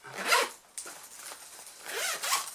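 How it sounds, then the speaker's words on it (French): A zipper is drawn along a fabric colored pencil case in a few quick, close rasping pulls separated by short pauses, the last stroke longer and smoother, with no talking. "fermeture éclair partout"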